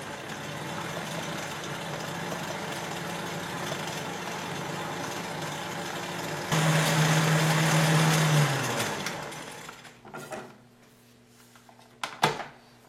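A stand mixer beats five eggs into sweet shortcrust pastry dough, a steady motor whir that speeds up and grows louder, then winds down and stops, leaving a few faint knocks.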